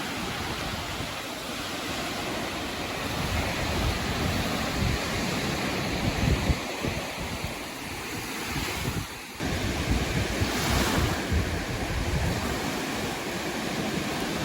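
Waves roll steadily onto a Michigan beach at sunset, a continuous broadband wash of surf mixed with wind rumble on the microphone, with no voices.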